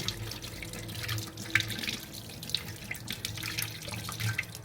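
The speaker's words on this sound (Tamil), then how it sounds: "லைட்டாக டேப் ஓப்பன் பண்ணி ஸ்லோ வாட்டர் வைங்க" A kitchen tap runs slowly while a crab is rinsed under it, a steady soft stream with small splashes and brief drips over a few seconds, and no one talks.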